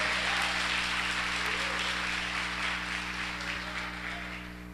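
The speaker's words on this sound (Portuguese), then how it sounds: "Se você crê nisso, aplaude ele porque ele merece toda a honra." Applause from a church congregation during a family worship service, a dense, steady wash of clapping filling the room for several seconds under a sustained low hum, tapering off slightly toward the end.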